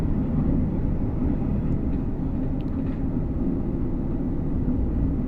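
London Underground tube trains at a station platform in the train simulator game Train Sim World 6, a steady low rumbling drone of rolling stock that holds evenly throughout with no talking.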